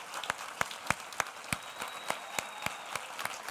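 An audience at a talk claps in a light, fairly sparse patter of separate hand claps, heard from a distance and at low level.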